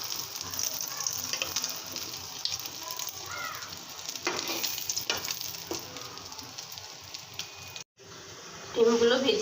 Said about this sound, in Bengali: এখন এভাবে আমি সবগুলো ডিম ভেজে নেব।